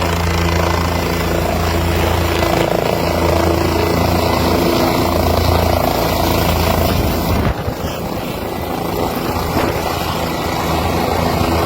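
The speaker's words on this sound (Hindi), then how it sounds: "ये देखिए हेलीकॉप्टर पहुंच रहा है।" A helicopter arrives, its loud, steady rotor and engine roar filling the whole stretch without pause, close and dominant with no talking.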